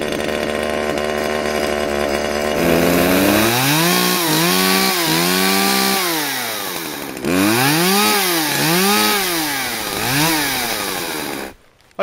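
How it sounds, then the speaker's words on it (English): A chainsaw idles, then revs up and down repeatedly in loud, close bursts before cutting out at the end. "Okay, we've tried it in the garage and the chainsaw seems to work."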